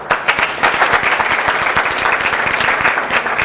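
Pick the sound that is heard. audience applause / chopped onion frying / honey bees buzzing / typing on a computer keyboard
audience applause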